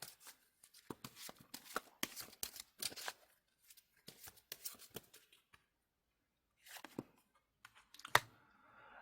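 Tarot cards are shuffled in quick, crisp riffling bursts close up, followed by a short pause, then more handling and a sharp snap as a card is drawn near the end.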